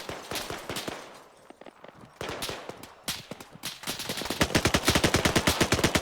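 Rapid gunfire in a multiplayer shooter video game, with dense rattling bursts that grow into a loud, steady automatic stream toward the end, with no talk.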